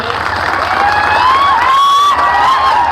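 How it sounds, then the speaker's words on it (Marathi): Crowd at an outdoor political rally, a dense wash of clapping and cheering voices at steady volume, with a shrill whistle-like tone rising and gliding above the din. "बापू साहेबांच्यासाठी जोरदार टाळ्या वाजवा तुम्ही"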